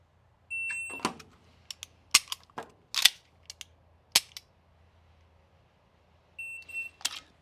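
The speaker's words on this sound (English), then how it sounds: "the last sound it made, which is my hammer falling down" A pistol's hammer falls during dry fire practice in a quiet room, giving a scattered series of sharp metallic clicks and snaps, some single and some in quick pairs, with short pauses between them.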